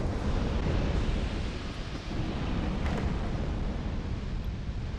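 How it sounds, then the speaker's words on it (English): A fire bomb bursts against a breakable wall in Dark Souls II, giving a sustained, loud, broadband rumbling roar that fills the whole stretch with no clear separate impacts. "go ahead and chuck that fire bomb"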